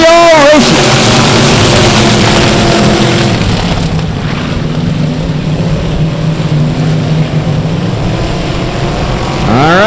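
Stock cars roaring off the start at South Texas Speedway, a loud droning pack of engines rising and passing, with a track announcer calling the race over the noise.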